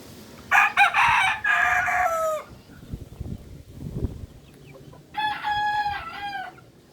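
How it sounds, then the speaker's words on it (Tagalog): Two roosters crow in turn: one long harmonic crow early, a pause of quieter farmyard noise, then a second crow a few seconds later. "Ito yung update sa ating mga tandang."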